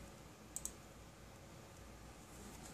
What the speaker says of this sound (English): you're gonna click where it says start